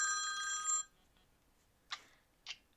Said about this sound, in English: All right, we got a phone call here.